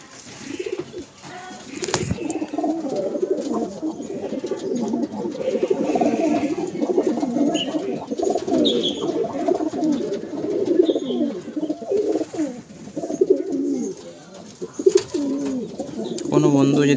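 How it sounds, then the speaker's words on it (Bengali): A male pigeon coos steadily in a home loft where pigeons are kept for sale, its low rolling calls repeating close by over the full stretch, with a voice talking over them. "এটা একটি নর পায়রা।"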